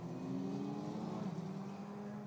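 Formula race cars following the Alpine safety car through Tosa at Imola, heard as a continuous, moderately distant drone of several engines held at an even pitch.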